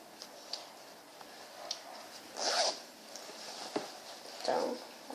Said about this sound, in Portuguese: E ela tem um zíper aqui dentro.